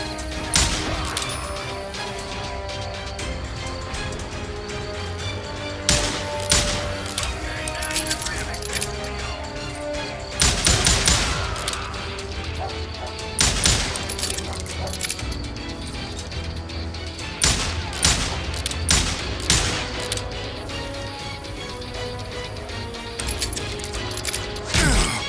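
Gunfire in the Western shooter Call of Juarez Gunslinger: repeated sharp shots in bursts through a dense game mix, with shouted voices over it.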